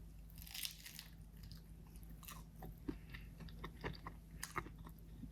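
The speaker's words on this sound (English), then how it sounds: "I don't have a mic on, but I bet you heard that crunch." A Cajun shrimp and rice eggroll dipped in sweet chili sauce is bitten and chewed, giving sharp crunches followed by steady crackly chewing, close but faint with no talking.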